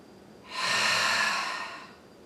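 One long ujjayi breath during a yoga practice, a close, steady hissing rush through the throat that swells and fades over about a second and a half, with no talking.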